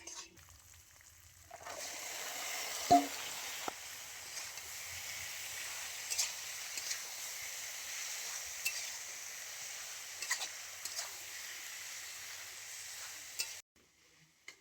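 Boiled taro stolons and chickpeas hit hot frying spices with a clunk, then a continuous close sizzle runs for several seconds with occasional stirring scrapes before it cuts off.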